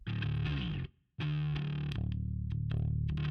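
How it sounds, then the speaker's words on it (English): A bass track from a song runs through heavy guitar-style distortion, buzzing, saturated sustained notes with a brief stop around one second before the fuzzy line resumes. "running through some heavy distortion"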